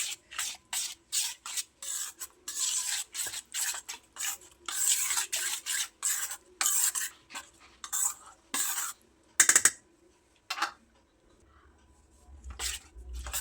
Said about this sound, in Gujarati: હવે ચમચીની મદદથી ધીમે ધીમે એને લમ્સ ના પડે એવી રીતે મિક્સ કરી લઈશું